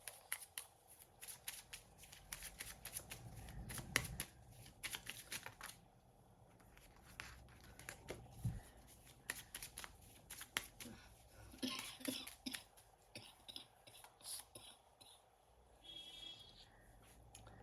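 Tarot card deck being shuffled close up, repeated soft riffling and flicking bursts of cards at an uneven pace, fairly quiet with a faint room background.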